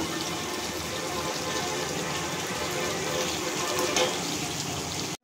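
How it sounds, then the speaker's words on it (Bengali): A little water poured into a pan over spices and halved tomatoes for a chicken dish, a steady rushing pour and sizzle lasting several seconds before stopping abruptly. "মশলা ধোয়া সামান্য একটু জল দিচ্ছি"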